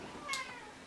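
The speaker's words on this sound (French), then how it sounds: "Désolée si vous entendez des bruits de chat" A pet cat meows once from nearby, a short, clear cry rising over a faint background hiss, with no talking.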